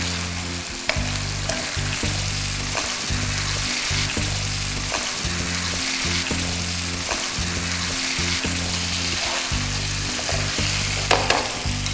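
Chicken frying in a pan with green chillies for a spicy chicken curry with vegetables, a steady loud sizzle running throughout with occasional stirring scrapes, and no voices.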